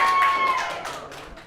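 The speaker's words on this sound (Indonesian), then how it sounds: "Tepuk tangan untuk Philips." Audience applause at a live comedy show in Indonesia, a brief burst of many hands clapping that starts strong and fades within a second and a half, with a voice briefly over the start.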